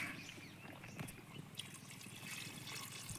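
Water trickles and pours steadily into a pot of chicken curry, a soft continuous liquid stream with faint kitchen background and no speech.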